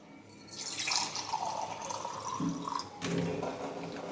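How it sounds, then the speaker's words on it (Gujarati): Water pours in a steady stream into an empty glass tumbler, a close splashing gush with a brief pause before pouring resumes. "આ ગ્લાસમાં હું પાણી ભરું છું"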